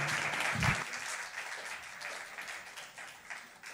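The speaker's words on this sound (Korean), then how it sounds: "박수로 환영하겠습니다." A youth retreat congregation claps to welcome a pastor in a church hall, a steady wash of applause at moderate distance that fades gradually with a few louder claps.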